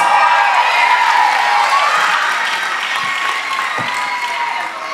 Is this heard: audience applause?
yes